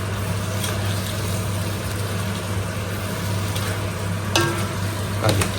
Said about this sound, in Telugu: సో ఇప్పుడు ప్రతి ముక్కకి పట్టాలి కాబట్టి బాగా మిక్స్ చేస్తాం